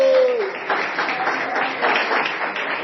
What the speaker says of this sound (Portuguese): Pode assentar e bater palmas para Jesus.